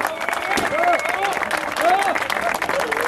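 Applause from the crowd at the trophy presentation of a football tournament final, a steady wash of clapping lasting a few seconds with a public-address voice or speech tones running over it.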